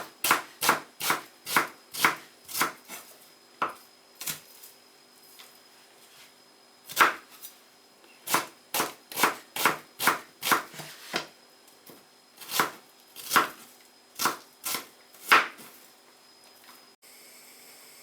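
A knife chopping fish in half on a board, a long run of crisp, evenly paced strikes up close, with a few short pauses between bursts.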